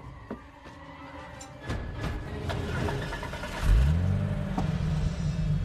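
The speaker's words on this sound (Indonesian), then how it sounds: "terlihat psikopat itu pergi dengan mobil sheriff tersebut dengan membawa mayatnya" A sheriff's car in a film scene starts up, its engine revving and rumbling louder as it pulls away and drives off, with a few knocks and clicks before it sets off.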